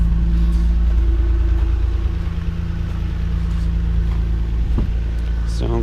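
A Nissan R32 GTR runs with a steady low engine drone and rumble while being driven out, with a brief rise near the end.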